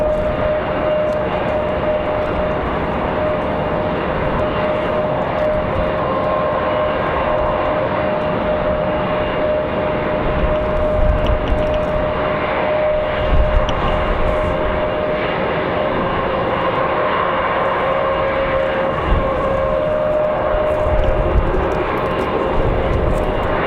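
Airliner engines roar steadily at Raleigh-Durham International Airport on a windy day as a Delta jet comes in on final approach, a loud continuous drone with a faint whine, no talking.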